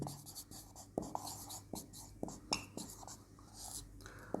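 A pen writes on paper in a quiet room, with soft scratchy strokes and regular taps every half second or so, faint and close, and a low voice murmuring now and then.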